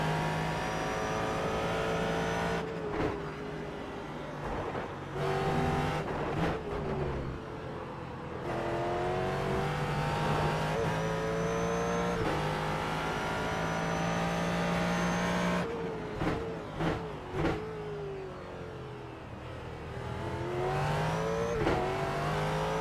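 A Ford GT3 race car engine revs and shifts through the gears around Suzuka in the iRacing video game, rising and falling loudly with short drops at each gear change and on braking, with no talk over it.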